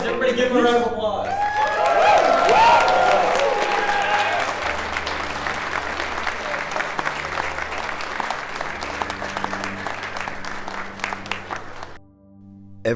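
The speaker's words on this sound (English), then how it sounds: "Hey, congratulations, everybody give him a round of applause" A crowd applauds a tower caster tournament winner at a MetaZoo event; loud, dense clapping swells quickly, peaks early, then carries on steadily before stopping abruptly near the end, with a voice speaking over it.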